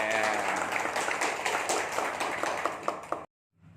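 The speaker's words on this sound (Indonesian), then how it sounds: "Tepuk tangan teman-teman semua" Participants at a basic PKB training course clap together in a steady burst of applause that fills the room, then cuts off abruptly into near silence.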